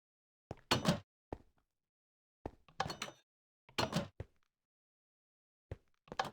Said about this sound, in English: Wait, how is that door opening?